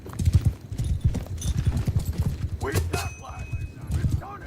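Rapid rhythmic hoofbeats of a galloping horse with a brief whinny, busy and close, against a game-like background.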